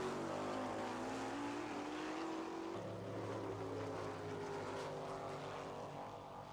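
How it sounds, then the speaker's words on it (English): A competition altered drag racer with a five-window Plymouth coupe body rolls up to the start line at Santa Pod in 1986, its engine holding a loud, steady, rumbling drone close by for the whole stretch, with no talking. "This is Stephanie Millen, bringing the car up to the start line, running alongside a 5-window Plymouth coupe-bodied altered of Mark Riches."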